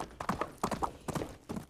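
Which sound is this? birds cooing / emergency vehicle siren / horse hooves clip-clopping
horse hooves clip-clopping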